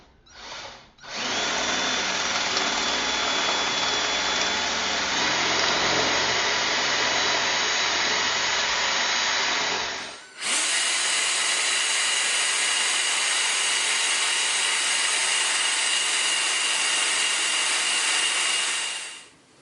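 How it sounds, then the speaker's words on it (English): A power drill bores holes for Tapcon screws through a metal repair ring on a broken toilet flange, whining steadily for about nine seconds, pausing briefly, then running again at a higher pitch for another nine seconds, close and loud. "we're going to drill some holes"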